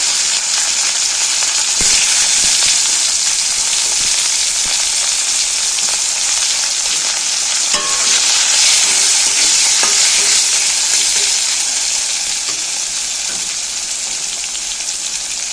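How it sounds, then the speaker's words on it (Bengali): Bitter gourd frying in hot oil, a loud, continuous hissing sizzle with occasional stirring knocks and scrapes against the pan, steady and close throughout. "ভাজা গরম তেলের মধ্যে এবার দিয়ে দেবো উচ্ছেটা"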